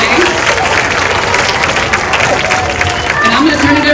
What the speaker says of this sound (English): We're going to need a round of applause.